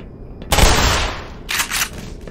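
Gunfire in the Black Mesa video game, a loud close burst of shots with a decaying tail, then a second shorter flurry of shots a second later.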